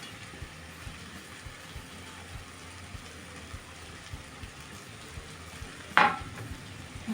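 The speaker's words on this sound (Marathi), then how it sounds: "आता आपल्याला जो पालक चिरून घेतला आहे तो टाकून घेऊ" Chopped spinach going into a pan of cooking palak dal, a low steady sizzle with soft stirring scrapes, then one sharp louder clatter and rustle as the greens drop in near the end.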